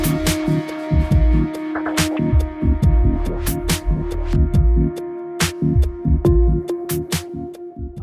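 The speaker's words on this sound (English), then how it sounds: "The printer applies material on the building surface in layers, and the material is subsequently hardened by UV lamp." A polyjet 3D printer lays down material in layers that a UV lamp then hardens, giving a rhythmic pattern of close mechanical thumps and sharp clicks over a steady electrical hum.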